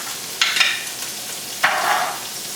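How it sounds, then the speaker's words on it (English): Chopped onion and frozen peas tossed in a hot pan, two short bursts of stirring and sizzling over a quiet background, close and clear with no voices. "we're going to fry those, we're going to saute those up first"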